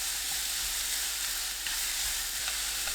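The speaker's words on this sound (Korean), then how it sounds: "중불로 1분 30초 볶아주세요." Carrots stir-fry over medium heat in a pan, giving a steady, soft, even sizzle with faint stirring scrapes and no talking.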